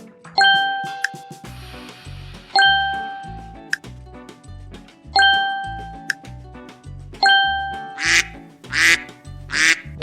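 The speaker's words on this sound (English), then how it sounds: "Duck." Cartoon duck quacks from a preschool animal puzzle game, three bright nasal quacks near the end after a run of chiming ding-dong jingles and bouncy music, all clear and close with no talk.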